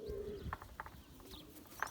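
Yağlı pigeons coo in a loft, a low, soft cooing close by followed by a few short bursts of cooing, with faint chirps in the background.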